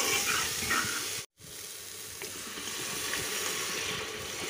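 Water hits a pan of spices frying with salt and turmeric, giving a loud, close, continuous sizzling hiss with one brief break before it carries on.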